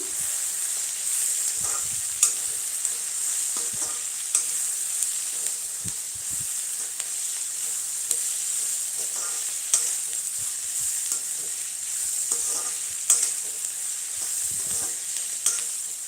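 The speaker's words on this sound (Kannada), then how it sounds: "ಹ್ಞೂ ಅಂತಿದೆ ಅಂದರೆ ಈರುಳ್ಳಿ ಫ್ರೈ ಆಗಿದೆ ಅಂತ ಅರ್ಥ" Onions frying in oil and stirred in a pan for lemon rice chitranna, a steady close sizzle with repeated spatula scrapes and taps throughout, no talking.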